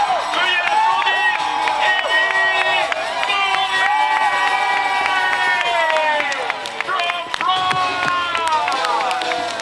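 A crowd cheers, whoops and claps steadily for a runner finishing at a world championship race in Lausanne, with announcer speech and shouting mixed into the dense roar.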